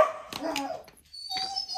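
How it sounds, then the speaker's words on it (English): A dog barks a few short, sharp times close by during indoor crafting, with a brief quiet gap before a final bark or yip. "That's just my crazy dog."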